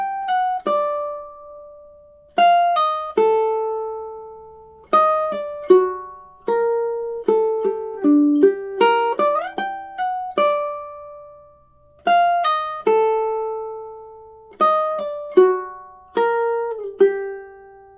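A ukulele alone plays the bare single-note melody of the A section of Tárrega's "Adelita" without bass or harmony notes. Its plucked notes are clear and close, each decaying quickly, in a gentle, unhurried rhythm with brief pauses between phrases.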